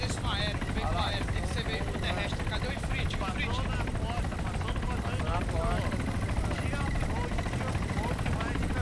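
Steady helicopter rotor drone with engine noise in the video game Arma 3, running throughout while people talk over it.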